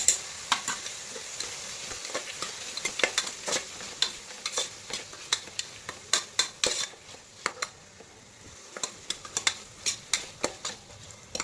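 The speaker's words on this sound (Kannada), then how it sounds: "ಟೊಮೊಟೊ ಸ್ವಲ್ಪ ಫ್ರೈ ಆಗಬೇಕು. ಅದ್ರ ಜೊತೆಗೆ ಶುಂಠಿ ಬೆಳ್ಳುಳ್ಳಿ ಪೇಸ್ಟ್ 1 ಟೀ ಸ್ಪೂನ್ ಹಾಕ್ತಾಯಿದ್ದೀನಿ." Onion, tomato and ginger garlic paste frying in a pan, a steady soft sizzle under repeated clinks and scrapes of a spoon stirring against the metal.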